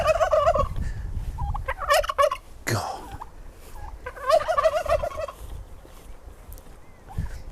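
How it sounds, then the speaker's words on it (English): Turkeys gobble in rapid warbling bursts, a few calls spaced across the scene with a sharp clatter between, fairly close; a voice mutters once. "I really don't like those turkeys."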